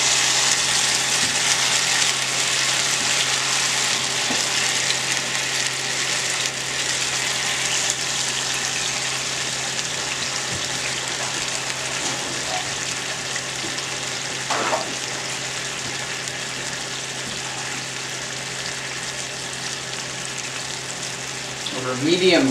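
Peaches frying in a pan over medium-low heat, a steady broad sizzle that runs unbroken and close throughout, with a faint low hum beneath and a few small clinks near the end.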